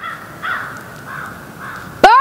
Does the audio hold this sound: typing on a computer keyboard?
no